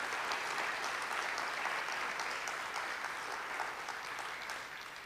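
An audience at a conference applauds, dense steady clapping from a large crowd that fades slightly toward the end.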